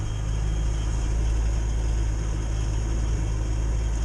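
A Morris Minor engine idling while not yet fully warm, a steady low throbbing hum with constant vibration, close and loud, unchanging throughout and without talk.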